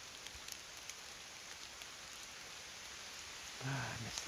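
Steady rain falls on the Appalachian Trail, a soft continuous hiss of drops on leaves and gear, with a brief rustle near the end.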